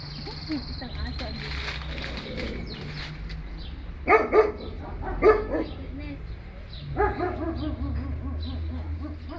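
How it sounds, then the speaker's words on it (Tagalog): A dog barks in a few short bursts amid background noise, with the barks clustered in two groups. "Isang aso."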